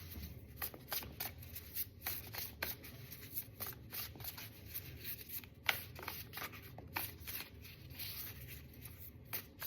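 A Chinese oracle card deck is shuffled again and again, with soft, quick riffling and rubbing strokes that repeat close and quiet.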